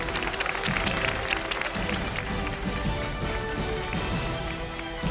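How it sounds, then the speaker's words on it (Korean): Audience applause for the winning player at the 2014 GSL Global Tournament finals, a StarCraft esports event: dense, steady clapping from a large crowd, loud and continuous throughout with a faint murmur beneath. "여러분들 큰 박수 부탁드립니다."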